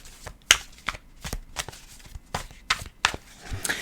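Tarot cards being shuffled by hand, a series of crisp riffling bursts and soft flicks at an irregular pace, close and fairly quiet, with no talking.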